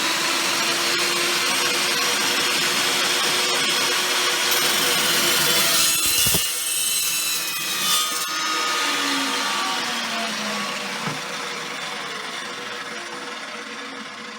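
A chop saw, an Evolution EVO380 compared with an abrasive wheel saw, runs at a constant high whine through a cut. Its pitch sags and recovers as the blade bites into the metal, with a few sharp clanks near the end.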